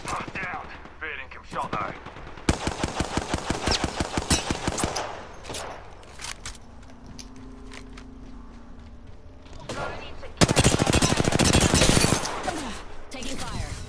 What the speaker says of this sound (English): Joker's shooting at me. Firing.